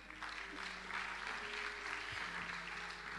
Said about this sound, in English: Fathers, clap for yourself.